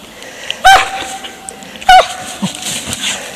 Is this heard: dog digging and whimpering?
yes